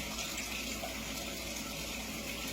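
Tap water pours steadily while someone fetches very cold, clean, free drinking water, a continuous broadband splashing rush with no voices over it.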